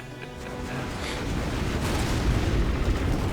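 MiGs on a bombing run drop mini nukes in C&C Generals Zero Hour, a sustained roaring rumble of explosions that builds steadily louder with deep bass, without talking.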